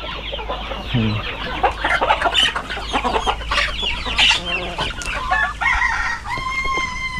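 Busy farmyard poultry feeding: chickens clucking and squawking, with turkey gobbles and calls overlapping throughout, close and lively.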